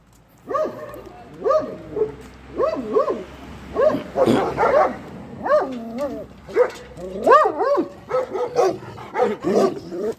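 Several dogs bark in repeated bursts, some yipping and whining, fairly close and loud, with a little background noise between barks.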